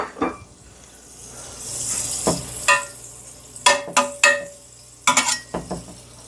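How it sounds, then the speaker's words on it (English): Sliced almonds toast in a pan on a medium-low stovetop, giving a soft steady sizzle broken by sharp scraping and clattering as a utensil stirs them, with several clusters of close, crisp knocks against the pan. "And throw those almonds right in there. And don't leave them. Stand right here. Keep stirring them until they get toasted."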